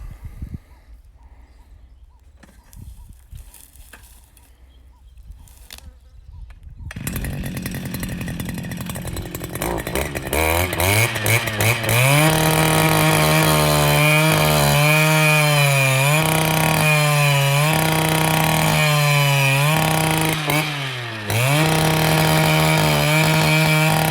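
A STIHL BT 230 gas-powered earth auger sputters, then revs up to a loud, steady drone with repeated rising and falling pitch swings as it drills a hole, close by.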